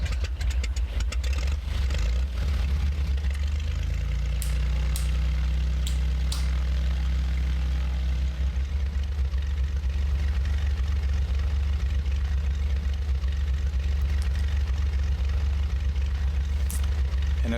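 A simulated Bonanza piston engine from Microsoft Flight Simulator X drones steadily while taxiing, a constant low rumble with a tonal note that fades partway through, alone and unchanging.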